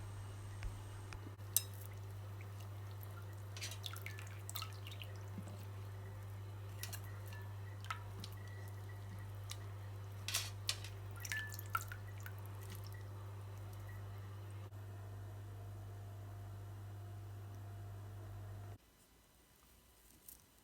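Faint, irregular drips and small splashes of rose water trickle from drained rose petals over a steady low hum, then the hum cuts off near the end.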